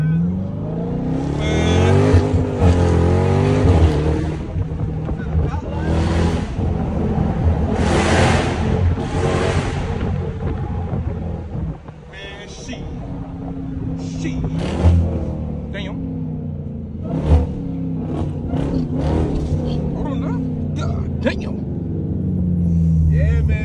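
A Jeep Trackhawk engine accelerates hard with a loud, rising roar and supercharger whine, gear changes and revving from inside the cabin, while people talk and shout over it.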